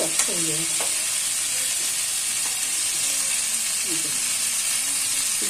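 Ghee added to cauliflower frying in a pan, a steady loud hiss and sizzle close up, with faint voice-like sounds over it in the first second and again near four seconds.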